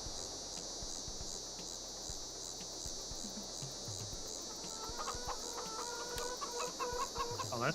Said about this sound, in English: Has animated chickens in it though.